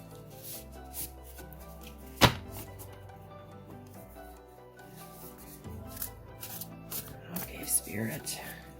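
Tarot cards are riffled and shuffled with soft rustling and flicking, with a sharp snap partway through, while quiet music plays in the background.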